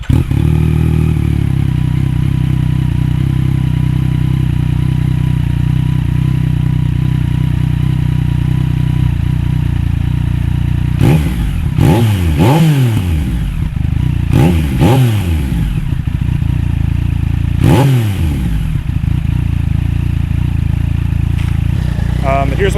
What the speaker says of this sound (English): I'm going to fire it up so you can hear it, and then I'll do a little walk around just to show you what things sound like